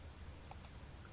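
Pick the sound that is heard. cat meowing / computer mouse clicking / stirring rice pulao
computer mouse clicking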